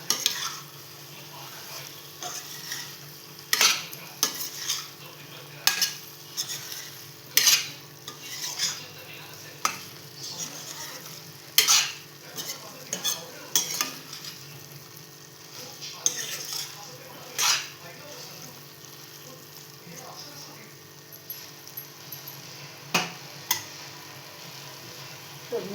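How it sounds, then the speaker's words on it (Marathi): A spoon stirs and mixes chicken masala in a pan, giving repeated scraping clinks against the metal over a soft sizzle, irregular strokes every second or two, close and fairly loud. "आपण आता हे एकत्र करून मिक्स करून घेऊया आधी, म्हणजे सगळ्या चिकनला लागेल ते"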